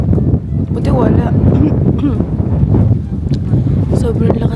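Strong wind roars and buffets the microphone on the summit trail of Mt. Olis, a steady low rumble with gusts, while voices talk over it.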